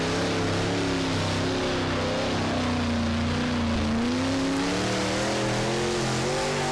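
Race cars throttle up together on the Iceville Raceway ice track, a loud, dense engine roar with rising and falling pitch sweeps that runs continuously throughout.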